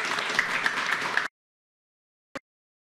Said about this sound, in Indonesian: Kita tepuk tangan dulu untuk para narasumber